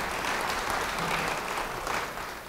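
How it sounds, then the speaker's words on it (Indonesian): Church congregation applauding, a full, even wash of many hands clapping at steady level, tapering slightly at the end, with no talk over it. "Beri tepuk tangan yang baik bagi dia."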